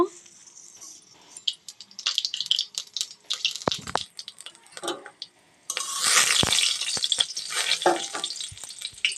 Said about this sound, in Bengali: আমি এবার কালো জিরে আর একটা শুকনো লঙ্কা ফোড়ন দিয়ে দেব।